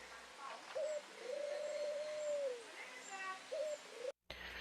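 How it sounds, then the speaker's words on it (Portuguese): Ring dove cooing in courtship, a few drawn-out soft coos with a rising and falling tone, one long call in the middle and shorter ones around it, close and clear over a quiet background. "E aqui nós temos um exemplo de um cortejo, de uma pomba do anel."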